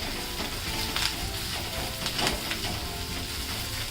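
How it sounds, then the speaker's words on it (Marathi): Chopped onion with a pounded green chilli, garlic and peanut thecha frying in a pan on low heat, giving a steady close sizzle with soft stirring scrapes throughout. "बारीक गॅसवर आपल्याला ना हे चांगलं व्यवस्थित परतून घ्यायचं आहे"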